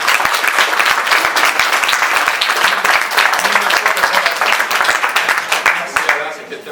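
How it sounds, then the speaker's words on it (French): Vigorous audience applause for Alain Mérat, founder of a painters' association, at an art exhibition in Saint-Pathus, with dense close clapping and some voices mixed in before it thins out at the end. "Donc je voudrais qu'on applaudisse en premier lieu Alain Mérat qui a créé l'association."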